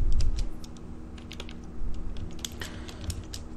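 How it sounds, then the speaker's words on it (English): Typing on a computer keyboard, a run of quick, uneven key clicks at close range over a low background hum, without speech. "So I'll just type"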